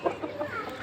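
A rooster brought from Sylhet gives a brief, soft cluck close by, a single short burst lasting under a second.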